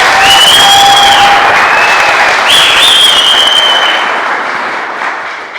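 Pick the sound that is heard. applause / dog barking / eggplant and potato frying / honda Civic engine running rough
applause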